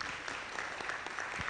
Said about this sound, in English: You can clap for yourselves.